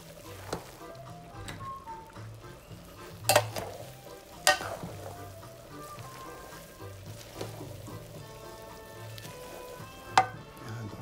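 Pancit noodles being stirred and fried in a pan, with a low, soft sizzle under a series of sharp utensil scrapes and clinks spaced irregularly across the stretch.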